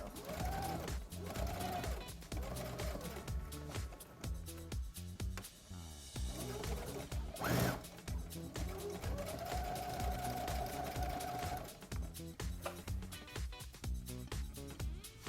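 A Brother CS7000i sewing machine stitches the pieces of a fabric cowboy hat, its motor whirring in steady bursts over a tonal background sound.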